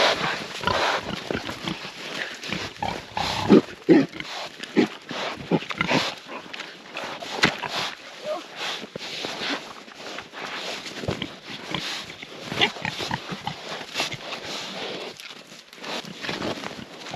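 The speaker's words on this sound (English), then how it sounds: "Pigs are kind of funny when they give them something new like this with their food." Pigs feed on alfalfa and milk mixed into their usual corn, with steady wet slurping, chomping and snuffling close up, plus occasional grunts and shuffling through the whole stretch.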